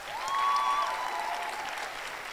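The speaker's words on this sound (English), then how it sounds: "So I just want you to give them a round of applause real quick." Audience applause for dancers after a show, a steady wash of clapping that swells in the first second and holds at a moderate level, with a faint voice or whistle rising above it.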